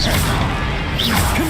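Spells cast in quick succession in the Hogwarts Legacy game: dense magical whooshes and impacts with brief rising and swooping tonal sweeps, loud and busy throughout.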